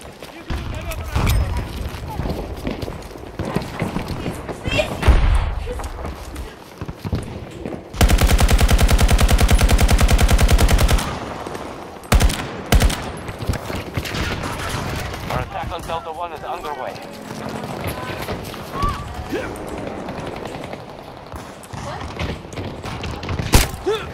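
Gunfire and a grenade explosion in the Battlefield video game: bursts of gunshots and thuds run through the clip, with a sustained loud blast lasting a few seconds in the middle, and talk over the action.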